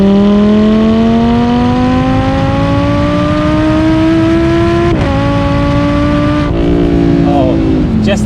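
A Lamborghini Huracan V10 fitted with a Supersprint exhaust, valves open, drones loudly from close by as the revs climb steadily, with quick gear changes breaking the rising, tonal wail near the end.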